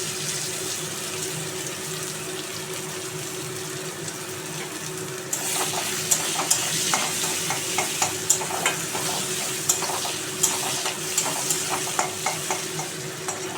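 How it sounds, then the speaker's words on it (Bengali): Onion fries with cumin seeds in a pan as a steady sizzle with a low hum. Partway through, a run of quick scraping and clicking stirring strokes cuts in. "পেঁয়াজটা একটু হালকা নেড়ে চেড়ে"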